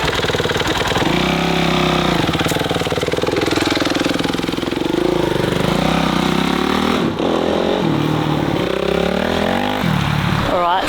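Motorcycle engine running loud and steady right after being kick-started during a bike build project, with a mid-pitched idle that rises and falls as the throttle is blipped, and people talking over it.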